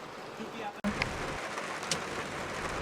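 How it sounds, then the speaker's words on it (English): Heavy rain falls on a car, a dense, steady patter across the body and glass with a couple of sharper drop hits, continuous and fairly close. "It is raining heavily and the original rearview mirror is not clear."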